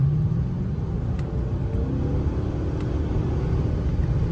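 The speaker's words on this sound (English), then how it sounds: "I believe this is a chambered muffler on it, and it sounds really good." Hyundai Genesis with an upgraded chambered muffler exhaust, heard from inside as a steady low rumbling drone while accelerating, smooth rather than throaty, with no talking.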